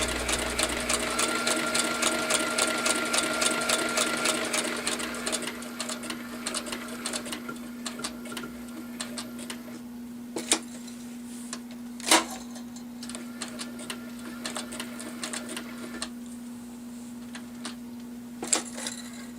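A sewing machine stitches down the back side of fabric, a rapid steady run of needle clatter over a constant motor hum that slows into sparse clicks and a few sharp knocks, with no one talking.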